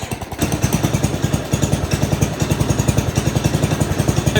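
Old Cub Cadet lawn tractor engine running after over ten years unused, a close, loud, rapid pulsing chug with steady rhythm and a brief stumble near the start.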